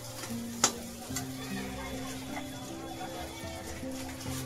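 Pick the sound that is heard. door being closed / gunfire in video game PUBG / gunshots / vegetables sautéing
vegetables sautéing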